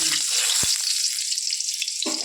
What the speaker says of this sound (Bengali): আর ওই কড়ার মধ্যে একটু সামান্য তেল দিয়েছি, আর একটু চন্দনী আর একটা শুকনো লঙ্কা ফোড়ন দিয়ে দিয়েছি।